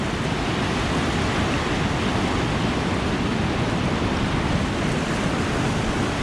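Orange River water rushing over rapids with standing waves, a loud, steady, broadband roar of turbulent flow with no breaks and no voices.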